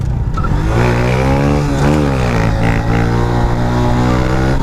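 A Honda Wave motorcycle engine revs hard and steadily during a long wheelie, with a loud close buzzing drone whose pitch wavers and dips briefly partway through.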